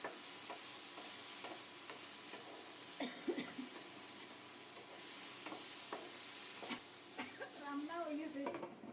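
A curry sizzles and fries in a pan while a spoon stirs it, producing steady hissing with repeated scraping clicks against the pan, close and moderately loud, with no talking.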